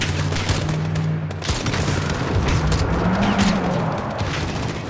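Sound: gunfire from a shooter in video game Call of Duty MW

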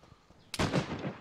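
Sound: gunshot in DayZ video game

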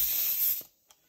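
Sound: airbrush spray gun spraying gray paint

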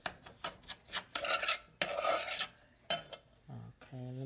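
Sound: stirring homemade peach juice mixture

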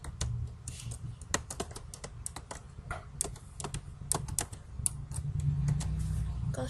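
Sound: typing a search on a computer keyboard

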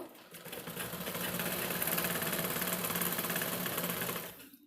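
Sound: sewing machine stitching fall onto a saree

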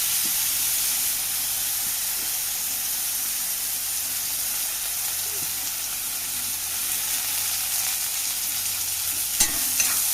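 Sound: sautéing chickpeas with chilli, ginger, garlic, curry leaves in pan

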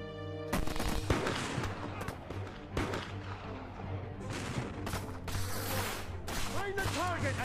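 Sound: musket gunfire in a battle in fog

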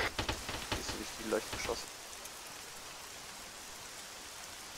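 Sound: rain in the video game Arma 3

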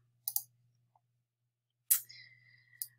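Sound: computer mouse clicking in the font panel

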